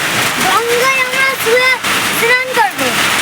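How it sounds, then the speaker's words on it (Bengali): Heavy rain pours down beside the Ganges riverbank, a steady broadband hiss that runs throughout while a voice talks over it. "দারুণ জোরে বৃষ্টি এসছে"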